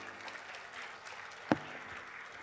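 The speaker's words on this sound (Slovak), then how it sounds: "potlesk pre Zdenka Hošeka, ktorý práve teraz prichádza" Faint applause from a conference audience greeting a speaker as he arrives on stage, a steady soft patter with one sharp louder clap or knock partway through.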